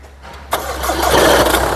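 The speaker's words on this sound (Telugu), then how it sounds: "సింగిల్ సెల్ఫ్లో కార్ స్టార్ట్ అవుతుంది" A 2017 Mercedes-Benz GLA 200 d diesel engine cranks briefly and catches on the first try, then settles into a loud, steady idle close by.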